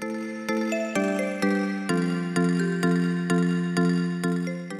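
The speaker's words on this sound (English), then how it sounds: "In this tutorial, we'll look at a modern plucky synth sound like this." A modern big-room plucky synth plays a steady run of bright, percussive plucked notes, each with a quick attack and short decay, roughly twice per second, loud and close with no talking.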